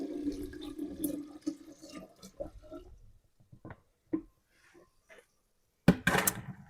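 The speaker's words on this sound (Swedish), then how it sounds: "Häller vi på vårt avsvalnade te." Cooled tea is poured into a freshly washed container for homemade kombucha, a few bursts of liquid splashing and trickling, close and fairly quiet, with a brief louder pour near the end.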